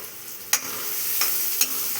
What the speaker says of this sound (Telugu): బాగా ఎర్రగా వేగనిద్దాము.